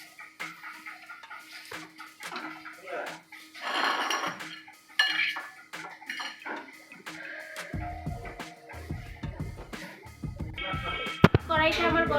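A metal kadai (wok) is set onto a gas stove in a home kitchen while an omelette-style egg dish is being made, giving scattered clanks and scrapes of cookware amid other kitchen clatter, with a person talking throughout.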